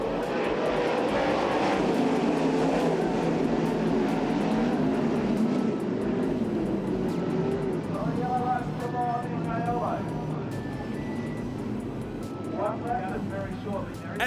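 Race cars roaring back up to speed at a restart on a night oval track, a loud continuous engine drone with shifting pitch as the field passes, with a commentator talking over it throughout.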